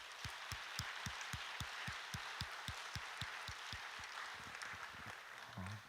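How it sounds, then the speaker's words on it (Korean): Church congregation at a university youth worship service clapping steadily in a quick, even rhythm, with a broad wash of many hands behind a few prominent nearby claps, continuing throughout. "우리 가운데 말씀의 꼴을 먹여주신 하나님께 영광의 박수를"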